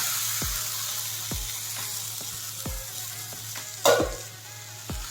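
Boiled, peeled, chopped Chinese potatoes sizzle steadily in a hot pan for a stir fry while a utensil scrapes and stirs at regular intervals, with one louder clatter near the end.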